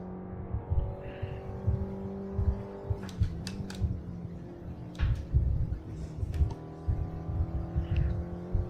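An iRacing race car in a video game drives a timed lap, its engine droning steadily and close with repeated shifts and surges in pitch, plus brief sharp transient bursts along the way.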